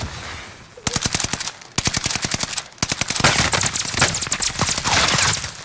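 Rapid automatic gunfire in a Warzone solos gunfight, loud and close, with several long bursts of evenly spaced shots separated by brief pauses, later overlapping with denser fire.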